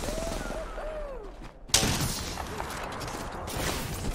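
Gunfire rings out in the Apex Legends battle royale game, with dense, noisy shots throughout and one sharp, loud burst near the middle, heard close and alone without talk.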